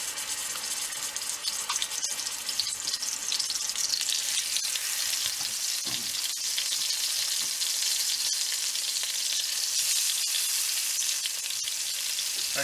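Hamburger steaks frying in a pan, a continuous loud hiss of sizzling fat that stays steady throughout, close and alone.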